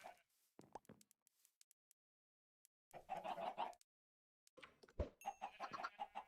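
Chickens clucking in a modded Minecraft game, short game-style clucks and plops arriving in two clustered bursts separated by near silence, moderately loud with no talk.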